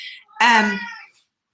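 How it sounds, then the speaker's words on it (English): A house cat gives a single clear, loud meow lasting under a second, alone after a faint earlier sound, with no talk over it. "that's our cat in the background"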